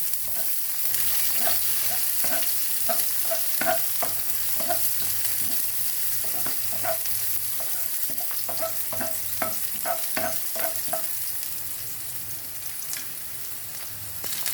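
Chopped onion fries in hot oil with popping cumin seeds, a steady loud sizzle running throughout while a utensil stirs and scrapes the pan in frequent, irregular taps, no voices.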